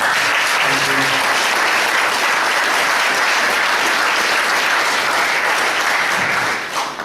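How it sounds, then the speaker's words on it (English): Sustained audience applause fills a conference hall for a departing speaker, dense and steady throughout at close range, with no talk over it, tapering slightly at the very end. "Let's a round of applause, please, for Cormac."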